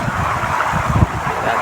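Strong wind roars steadily across a cucumber field and buffets the microphone, a low rumbling gust that continues without a break.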